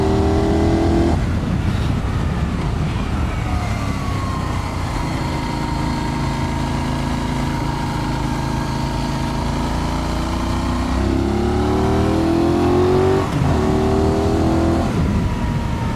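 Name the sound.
motorcycle engine accelerating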